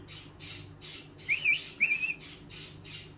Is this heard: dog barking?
no